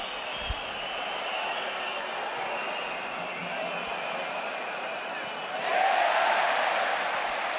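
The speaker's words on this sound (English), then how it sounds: "Another huge cheer as Gerard Martin wins another tackle." A stadium crowd at a Barcelona vs Real Madrid football match, its steady roar swelling into a louder cheer near the end, with commentators talking over it.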